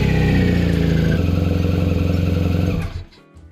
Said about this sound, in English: I always recommend make sure start up the engine.